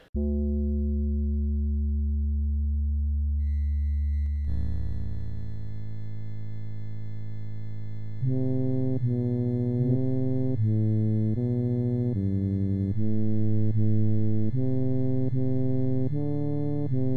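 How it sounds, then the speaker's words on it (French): Sustained droning synth tones open, then the slow, solemn Gregorian Dies Irae chant melody enters over the drone in dark video game music, with no speech. "à la fin du jeu, notamment dans la dernière salle, il y a le Dies Irae grégorien"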